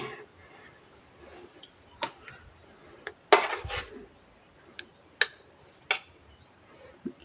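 A serving spoon clinks and scrapes against a bowl as stuffed brinjal curry is dished out. Sharp, separate metallic knocks come every second or so over a quiet kitchen background.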